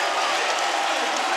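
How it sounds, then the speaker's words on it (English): Crowd at a Street League Skateboarding men's Super Crown final in Los Angeles cheering and applauding, a steady dense roar of many voices throughout, with a commentator talking over it. "And the crowd reacts."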